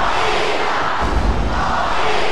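A wrestling crowd cheers and roars in a continuous swell of loud, steady noise, rising slightly near the middle.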